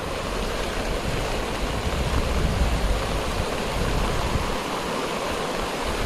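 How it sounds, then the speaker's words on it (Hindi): Heavy monsoon rain pours down steadily outdoors beside a swelling stream, a dense constant wash of water noise, loud and continuous without any voices. "बारिश फिर तेज हो रही है थोड़ी सी"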